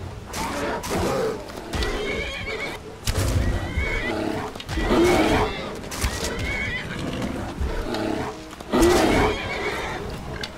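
A horse in the video game Skyrim neighs and whinnies several times in bursts, with rumbling and clattering sounds between the calls.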